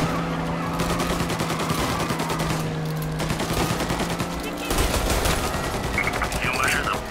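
Heavy gunfire in the video game Mafia Definitive Edition during a bank robbery, with dense rapid bursts from several guns running nonstop and loud, a car and siren tones mixed in, and a voice briefly heard beneath.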